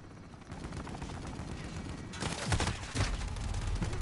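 Gunfire in Call of Duty Modern Warfare: rapid bursts of shots, faint at first, then louder clustered reports with low booms over steady game noise.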